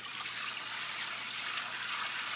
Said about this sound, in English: Look at splish splash.